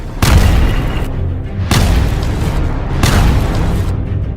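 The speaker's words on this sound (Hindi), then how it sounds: "लेबनान और इजराइल की सीमा के पास मौजूद कुछ फौजी ठिकानों पर धमाके होते दिखाई दिए" Three loud, deep rocket strike explosions burst one after another near the Lebanon–Israel border, each followed by a rumbling roar that lingers before the next blast.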